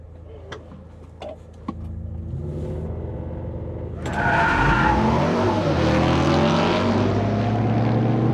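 A GMC Hummer EV launches hard in a drag race against a Ram TRX: quiet cabin with a few clicks, then a rising electric whine and a loud roaring rush of wind and road noise that swells and holds, close and without talk.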